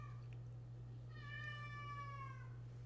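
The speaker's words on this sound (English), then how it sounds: "I don't know if you can hear my cat." A house cat gives one long, rising-then-falling meow, preceded by a faint shorter call, heard fairly quietly and alone over a steady electrical hum indoors.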